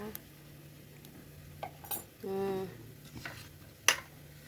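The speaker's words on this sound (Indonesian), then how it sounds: "Saya pakai sendok. Sendoknya agak kaku gini." A stiff metal spoon scrapes and clinks against a pan while prying loose a rice flour bikang cake, with a short grating scrape in the middle and a sharp clink near the end over quiet kitchen background.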